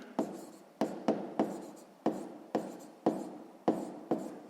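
Pen strokes writing out a sixth-grade maths solution on paper, about nine crisp taps and scratches in an uneven rhythm, close and alone.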